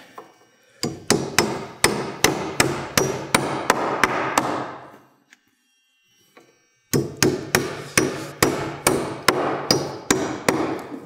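Hammer driving 16d nails into floor joist blocking: two runs of sharp, evenly spaced ringing blows, about seven and then eight strikes, separated by a pause of quiet.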